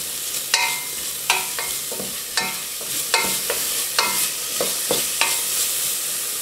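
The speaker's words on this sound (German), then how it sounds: "Da gebe ich jetzt eine Zwiebel, eine kleingeschnittene rein." Chopped onion goes into a pan after beef rouladen are browned, with olive oil and tomato paste to follow; a steady sizzle carries repeated sharp scraping taps of a utensil stirring, no voices.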